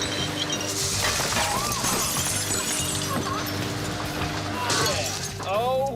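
Full glass jars shatter and clink as a rock flung by a lawnmower smashes into a wall of them, a loud crash under ongoing speech and engine noise, with a second breaking burst near the end.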